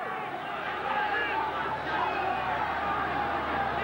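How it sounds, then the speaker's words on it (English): Rugby league crowd at a 1990 Roosters versus Bulldogs match roaring steadily in support of Eastern Suburbs, a broad, continuous wash of massed voices filling the stadium without letup. "The crowd starting to get behind East in their struggle to snatch this game."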